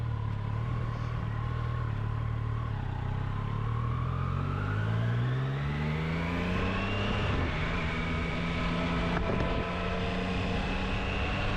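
A Triumph Daytona 660 motorcycle engine revs up as the ride begins, its steady drone climbing in pitch through the gears, loud and close, with no talking.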